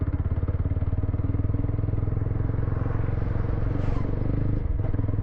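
A 2025 Jawa FJ motorcycle engine runs in gear with a rhythmic, pulsing knock and clatter, loud and close, steady throughout with a slight swell near the end.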